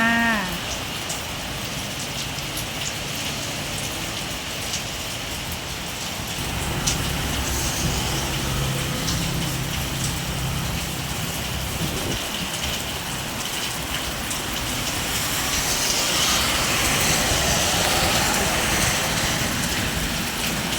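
Heavy rain pours steadily while strong wind blows, a dense, continuous hiss of drops that swells louder in gusts partway through and again near the end, with no voices.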